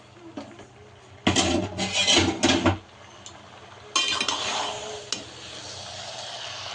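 Boiled noodles dropped into a pan of fried egg and vegetables and stirred, giving two loud bursts of clattering metal scraping and clinking, separated by a quieter lull with faint background hum.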